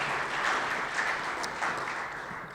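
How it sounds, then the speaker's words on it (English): Applause at a Rotary Club meeting for Police Recognition Day, honoring the police department, heard as a brief, even wash of clapping at moderate level. "Won't you join with me in applauding our department?"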